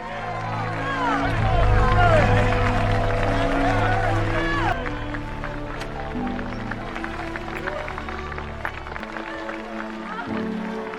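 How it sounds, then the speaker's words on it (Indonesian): Townspeople greeting a man with warm applause, loud dense clapping and crowd noise for several seconds before thinning into scattered claps under background music and speech. "Kemudian Tolson disambut dengan tepuk tangan meriah oleh warga."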